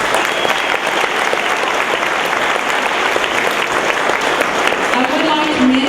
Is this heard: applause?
yes